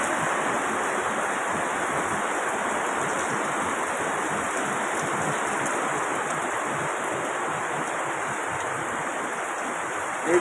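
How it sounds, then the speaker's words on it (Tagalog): Steady rain falling in Silang, Cavite, a continuous broadband hiss of water that stays constant and fairly loud for the whole stretch, with no voices. "matagal-tagal na rin itong ulan ha"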